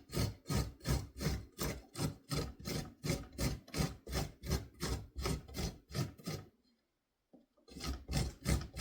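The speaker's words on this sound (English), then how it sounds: "I'm just going to simply grate it against my cheese grater." An ingredient for homemade elderberry syrup rasped back and forth on a cheese grater in a quick, even rhythm of about two strokes per second, close and loud, pausing briefly before resuming.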